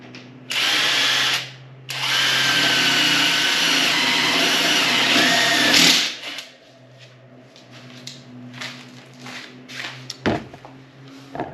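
A power drill bores holes while building a setup for raising young egg-laying chicks: two loud, steady whining runs, a brief pause between them, then quieter clunks and handling noises afterward.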